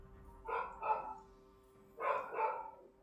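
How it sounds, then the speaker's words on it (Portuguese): Dog barking indoors, two pairs of quick barks spaced apart, moderately close but fairly soft over a quiet hum. "Meu cachorro aparentemente quer participar da live aqui, né?"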